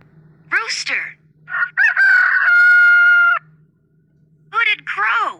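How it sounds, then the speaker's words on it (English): A rooster crows once in a single loud, drawn-out cock-a-doodle-doo, clear and close, with a voice speaking briefly before and after. "Rooster."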